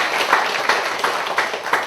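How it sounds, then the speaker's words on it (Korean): A church congregation claps together during a Sunday service, making a continuous, fairly close patter with a few louder pulses over just under two seconds. "우리 하나님 앞에 감사와 영광의 박수를 한번 올려드리겠습니다"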